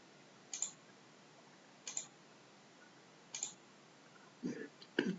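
Three sharp, sparse computer mouse clicks spaced about a second and a half apart, quiet against near silence, followed by a brief low thump and another click at the end.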